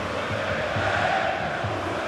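Football stadium crowd at Dortmund during a Bundesliga match against Hamburger SV, a steady loud roar of many voices with faint chanting swells, filling the whole moment.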